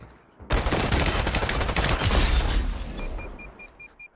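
Gunfire from the video game Population: One erupts suddenly into a loud, rapid volley of shots, then fades over the final second while faint electronic beeps sound.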